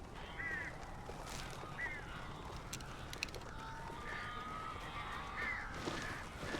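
Crows caw faintly in the Alan Wake video game, several short rasping calls scattered over a quiet, murky ambient background, with a few mechanical clicks in the middle.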